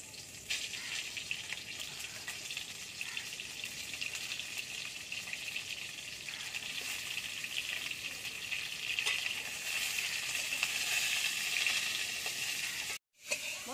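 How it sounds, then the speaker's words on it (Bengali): Pointed gourd sizzles steadily in hot mustard oil in a kadai, a continuous bright frying hiss that holds at an even, fairly loud level for the whole stretch, with no talking. "মা ওদিকে পটলগুলো ভেজে নেবে"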